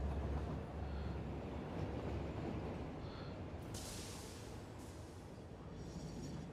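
Train from the video game Satisfactory rumbles past in a loud, steady roar with a few brief metallic hiss bursts, and no talk over it.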